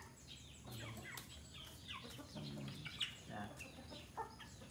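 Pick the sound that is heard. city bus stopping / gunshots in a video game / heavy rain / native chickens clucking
native chickens clucking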